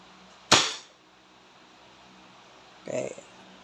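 A Crosman SNR 357 airgun revolver fires one sharp, loud single-action shot during a chronograph test, followed by a short, quieter clatter a couple of seconds later.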